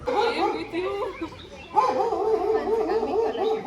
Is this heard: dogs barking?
yes